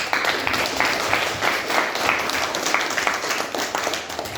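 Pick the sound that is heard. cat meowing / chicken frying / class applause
class applause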